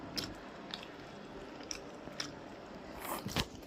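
Close, quiet chewing and biting of fish during a home lunch, with a few soft crunchy bites and wet mastication sounds spaced irregularly and no speech.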